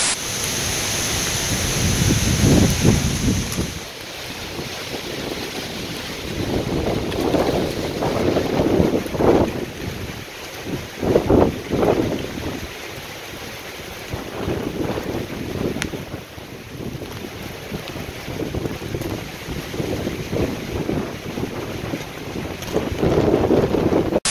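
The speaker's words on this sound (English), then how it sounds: "The clip you're about to see is when the storm just started hitting, and that's before the strong winds came in." Wind gusts and buffets the microphone at sea aboard a boat as a storm starts to hit, with waves washing around the hull. The noise is loud and constant, surging in bursts and easing again, with no talking.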